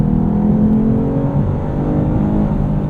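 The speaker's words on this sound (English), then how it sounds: "That sounds more like a regular V6" A 2022 Lexus IS 350 F-Sport's V6 engine, with its augmented engine sound turned off, hums steadily from inside the cabin while driving, a loud, even drone whose pitch shifts slightly with no one speaking over it.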